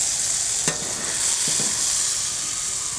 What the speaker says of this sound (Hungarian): Nagyon szépen sül,